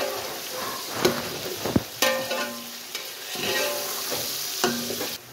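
Frozen peas, carrots and potatoes sizzle steadily in a hot pan while a spoon scrapes and stirs through them, giving intermittent clanks over the continuous frying hiss.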